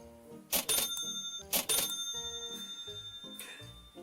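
Bright checkout chimes from a cash register in the supermarket game Supermarket Together ring twice in quick succession and then once more faintly, over light looping background music.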